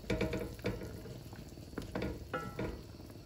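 Chicken pieces with bay leaves and red chili powder stirred in a pan, quick scraping and clattering strokes over a low sizzle, close and fairly loud, with no voices.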